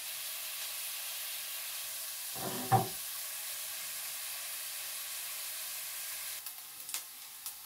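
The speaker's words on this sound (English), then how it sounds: "So let's let the onions brown" Onions browning with salt in a pan give off a steady, moderately faint sizzle and hiss, with a brief clatter of stirring partway through and a few light knocks near the end; no one speaks.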